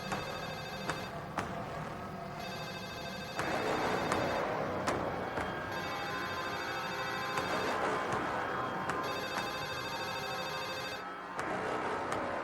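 An old-style telephone bell rings in repeated long bursts separated by short pauses, loud and close, with no talk over it, in a tense scene from a Spanish-language horror drama.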